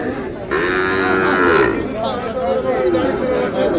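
A cow lets out a long, loud moo close by at a cattle market, followed by another lowing call, while people chatter in the background.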